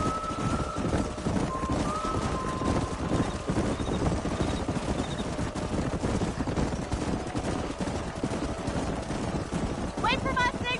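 A group of horses gallops in the western game Red Dead Redemption, a steady, continuous clip-clop of hooves under a dense rumble of background noise.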